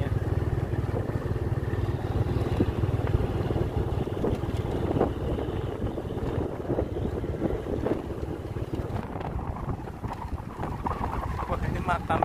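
A water pump runs on a boat in the Lapindo mud area of Sidoarjo, a steady motor drone with wind buffeting the microphone throughout, while people talk over it.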